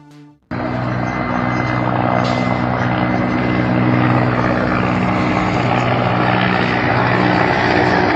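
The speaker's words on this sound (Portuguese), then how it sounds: "Helicópteros dessas forças especiais Delta dos Estados Unidos, que vocês estão vendo agora mesmo voando sobre o Iraque" US Delta special forces helicopters flying over Iraq, a loud steady rotor and engine roar that starts abruptly after a brief quiet moment and holds constant and close throughout, with no voices.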